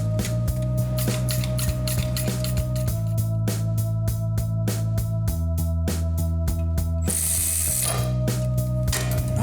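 Rapid ratchet clicking steadily while tightening four screws that bolt a transmission to the engine of a 1971 Cuda 340 convertible, close and continuous, shifting in pitch as each screw draws in, with no talking.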